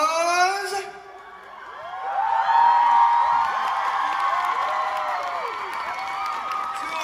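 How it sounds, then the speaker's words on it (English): A concert crowd in Stockholm cheers and whoops for the vocalists. A high shout comes first, then the cheering swells into a loud, sustained roar with shrill screams and some clapping. "Please give a big round of applause"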